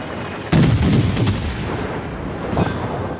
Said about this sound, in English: So let's get the armor piercing shells to work, shall we?